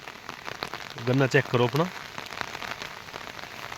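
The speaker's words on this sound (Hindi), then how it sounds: "कितनी बारिश हो रखी है" Rain falls steadily across farm fields with sugarcane crops, a constant soft patter running throughout while someone speaks briefly over it.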